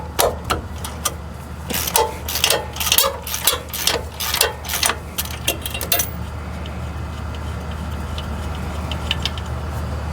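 A ratchet wrench undoing a nut on the rear hub of a Nissan Xterra, with a quick run of loud rhythmic clicks that stops partway through, leaving a low steady hum and faint clicks.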